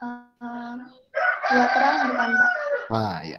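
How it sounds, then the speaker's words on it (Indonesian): A rooster crows in long, strained calls that rise and hold, heard close and fairly loud while people talk over it. "itu suara ayam"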